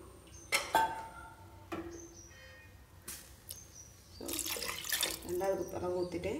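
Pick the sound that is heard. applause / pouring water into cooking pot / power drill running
pouring water into cooking pot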